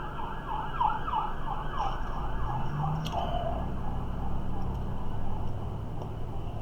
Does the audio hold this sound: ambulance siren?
yes